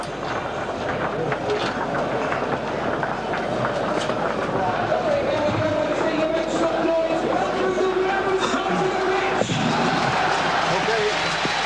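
Football crowd of around 30,000 at Pride Park for Derby County against Liverpool, a broad continuous roar and murmur of the stadium with scattered shouts and whistles, distant and steady, with a commentator talking over it.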